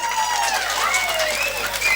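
Audience applause at a Tamil comedy stage show, a steady wash of clapping from the crowd that fills the whole moment, with a few whistle-like tones riding over it and some voices mixed in.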